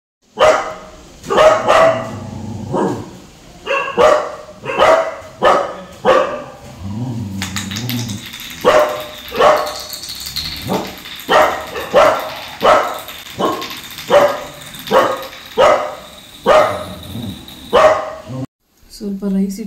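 A dog barks repeatedly in a rapid, insistent series of sharp barks close by, with brief pauses between bursts, while a person talks nearby.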